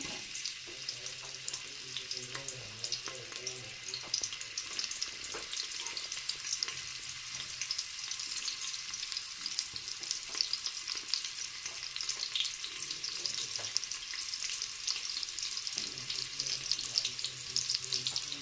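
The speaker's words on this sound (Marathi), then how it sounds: "आपण चांगलं परतून घेऊया" Onion sautéing in a pan for mutton curry, a dense hissing sizzle that holds steady throughout with faint intermittent stirring scrapes, fairly quiet and with no voices.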